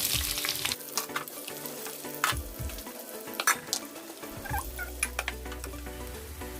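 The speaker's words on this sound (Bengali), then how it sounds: "পেঁয়াজটা ভাজা হয়ে গেছে" Chopped onion frying in hot oil for a Bengali Bombay duck (lote fish) curry, a busy sizzle and crackle close to the pan with occasional sharp spits and stirring clatter.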